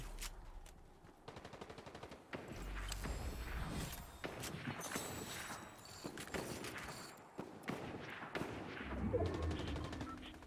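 Rapid bursts of gunfire crackle from several directions in a Fortnite match, with machine-gun rattles and single shots overlapping at varying distances, some near and sharp, others more distant.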